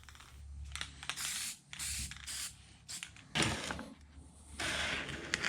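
Aerosol spray paint can hissing onto an old Kennedy metal tool box in several bursts of varying length, close and fairly loud, with brief mechanical clicks between sprays.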